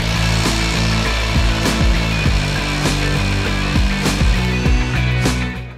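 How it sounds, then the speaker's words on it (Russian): A rotary hammer in impact mode drills a centering hole into concrete with a carbide-tipped bit, giving a loud continuous motor whine broken by sharp rhythmic hammering bursts, close up with no talking. "ставим в ударный режим перфоратор и делаем центрирующее отверстие"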